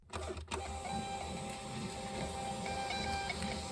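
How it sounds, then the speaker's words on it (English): A Rollo thermal label printer runs steadily while printing a shipping label, a close mechanical whir with faint high whine that starts after a brief click and continues evenly; no speech. "as soon as I press print, basically it's going to come out of the Rollo label printer"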